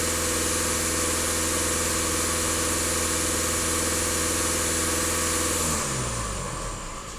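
A Skoda Octavia 2.0 TDI diesel runs steadily during DPF regeneration, a close, even engine drone that winds down and fades toward the end, with no talking.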